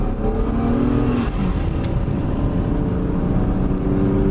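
A BMW E36 320i coupé accelerating to overtake, its engine droning and rising steadily from inside the cabin, loud and continuous under road and wind noise, with no talking.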